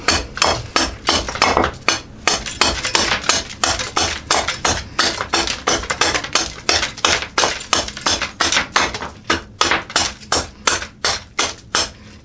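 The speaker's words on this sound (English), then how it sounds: "I might speed up some of the chopping." A thin HRC 64 cleaver chops repeatedly in a rapid, steady rhythm, sharp close thuds striking a board, dozens of blows with no talking.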